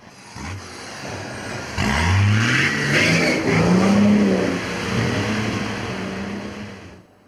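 A modified 4WD engine revs hard as the vehicle churns through a muddy off-road bog hole, the pitch climbing and falling in loud, sustained surges from near by.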